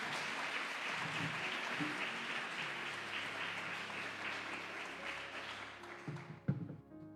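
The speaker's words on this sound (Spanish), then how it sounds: "Denle un aplauso al Rey de Reyes." A crowd applauds steadily, a dense wash of clapping that holds for several seconds before thinning out, with a few louder claps near the end.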